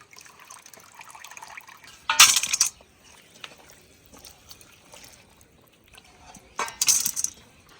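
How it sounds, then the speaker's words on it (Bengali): Water draining off soaked rice in a village kitchen, two short splashing bursts of runoff with faint clinks between them, fairly close, no talking. "চালটা খুব সুন্দর ভিজেছে, এবার জল ঝরিয়ে নেব"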